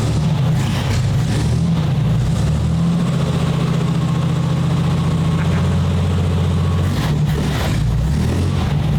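A rocket car's engine runs rough and struggles to hold an idle, a loud continuous low rumble with uneven pulsing and a brief surge near the end.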